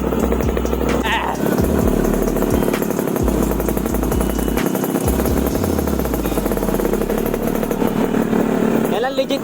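A street motorcycle engine revs and shifts repeatedly on a mountain road trip, loud and close, with the pitch rising and dropping through several gear changes while voices talk over it.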